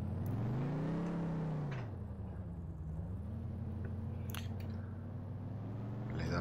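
Ford Falcon GT engine in the driving simulator game Rigs of Rods, a low droning hum whose pitch rises and falls as the motor revs, with faint clicks over it and no talking.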